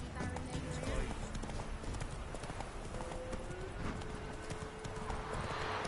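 Horse hooves clip-clopping at a steady pace in The Witcher video game, a continuous rhythmic clatter over dense game ambience, with voices talking over it.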